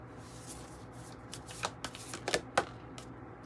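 Tarot cards are shuffled by hand close to the microphone in a quiet room: a few quick, irregular riffles and soft slaps, with no talking.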